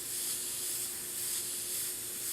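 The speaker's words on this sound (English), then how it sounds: "just misting it over it." A spray gun or aerosol lightly mists paint over a painted figure's face and cheeks, giving a steady, soft hiss that holds evenly throughout with no talking.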